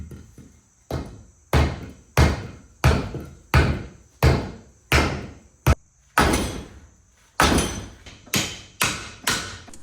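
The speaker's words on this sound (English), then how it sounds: "Pretty much you lube it up and then you just use a rubber mallet and slam her on there" A rubber mallet slams a part into place on a Mini Cooper, a dozen or so loud, close, sharp blows in a fairly steady rhythm with short decays between them.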